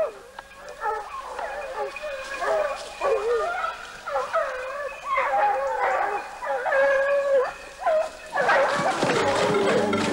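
Hunting dogs bay and howl in a French countryside hunt, a pack giving repeated drawn-out, wavering cries that overlap and rise in bursts, fairly close and loud with no talk over them.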